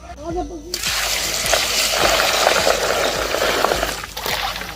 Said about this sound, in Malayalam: നല്ല വെള്ളം ഒന്ന് ഒഴിക്കാം